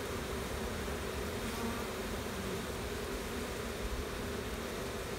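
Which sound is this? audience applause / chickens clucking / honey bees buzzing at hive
honey bees buzzing at hive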